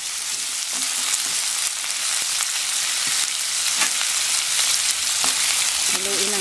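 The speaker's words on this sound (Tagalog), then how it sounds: "ilalagay po natin yung beef na marinate natin sa soy sauce at saka sa lemon juice" Beef marinated in soy sauce and lemon juice sizzles loudly in a hot pan, with a dense, steady frying crackle throughout and occasional clinks of a utensil stirring nearby.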